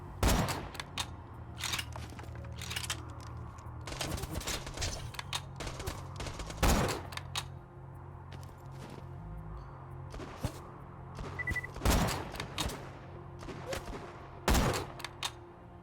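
Rapid bursts of gunfire from the video game Borderlands 2, with sharp shots and fusillades recurring throughout over a steady low game background rumble.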